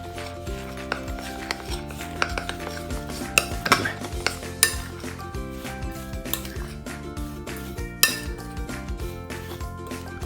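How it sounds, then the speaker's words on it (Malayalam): Utensils clinking and scraping in a bowl while peanut butter, horse gram and homemade protein powder are mixed for protein bars, irregular metallic taps over a background of steady music. "നമ്മുടെ പീനട്ട് ബട്ടറും മുതിരയും പിന്നെ നമ്മളുണ്ടാക്കിയ ഹോം മെയ്ഡ് പ്രോട്ടീൻ പൗഡറും എല്ലാം ചേർത്ത് ഞാൻ നല്ലോണം മിക്സ് ചെയ്തിട്ടുണ്ട്"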